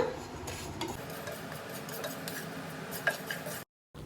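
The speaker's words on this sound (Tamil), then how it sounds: "கருப்பு எள்ளும் போட்டு நல்லா வறுத்துக்கோங்க" Black sesame seeds roast in a pan while a utensil stirs them, making a steady dry scraping and rustle with a few light clinks, then a brief silence at the end.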